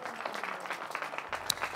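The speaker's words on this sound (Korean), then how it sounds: "자, 박수 한번 하겠습니다." Church congregation clapping during an Easter resurrection sermon, a quiet, fairly distant patter of many hands that fades out by the end.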